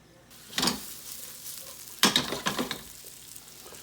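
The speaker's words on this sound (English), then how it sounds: "We're gonna saute the onions and the garlic together" Onions and garlic sautéing in a hot pan over high heat with sun-dried tomatoes, two bursts of sizzling and stirring with a quieter crackle between, no voices.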